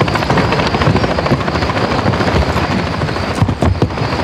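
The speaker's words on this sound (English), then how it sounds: "These helos are your primary targets." Military helicopters in the video game Modern Warfare III, loud close rotor thumping and engine roar filling the whole stretch, with a few sharp bursts near the end.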